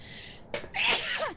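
A single close sneeze bursts out mid-clip, a sharp intake followed by a loud breathy explosion that trails off into a brief vocal tail.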